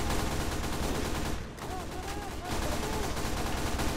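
SMG fire in Team Fortress 2 rattles in dense sustained bursts with a brief lull partway, loud and chaotic amid other game noise and voices.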